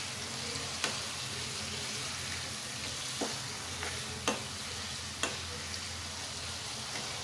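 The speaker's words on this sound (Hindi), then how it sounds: "एक बार इसे फिर मिला लेते हैं अच्छी तरह से" Brinjal (baingan) sabzi cooked without onion or garlic is stirred in a pan over a soft steady sizzle, with several sharp scrapes and clacks of the spoon against the pan spaced irregularly across the clip.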